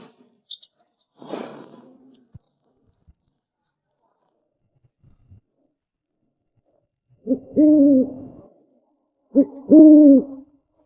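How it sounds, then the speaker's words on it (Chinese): An owl in an animated series hoots urgently, two loud, close, paired hoot calls near the end after a few soft rustles and clicks, otherwise quiet. "是猫头鹰，但声音不对劲儿"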